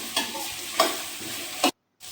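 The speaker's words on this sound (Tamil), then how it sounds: "இப்போ கட் பண்ண 2 தக்காளி பழம் சேர்த்துக்குங்க. நல்லா வதக்கிடுங்க." Chopped tomatoes and coconut sauté in a pan for drumstick leaf chutney: an even sizzle broken by three rhythmic spatula scrapes and stirs, then a short sudden silence before the frying resumes.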